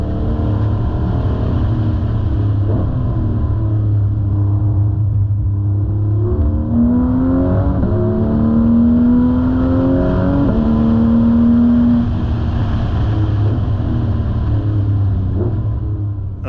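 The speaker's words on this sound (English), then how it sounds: "Let the sounds of the engines go here." A car engine hums steadily throughout, rising and falling in pitch as it accelerates and shifts uphill on a Smoky Mountains road, loud and close with road rumble beneath.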